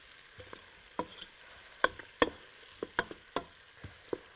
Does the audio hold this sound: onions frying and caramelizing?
yes